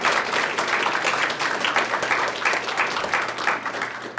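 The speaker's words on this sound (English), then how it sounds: "while we're sharing rounds of applause" A crowd applauds steadily at a spring school celebration for an early college and academy, the dense clapping holding at an even, fairly loud level throughout without any talk over it.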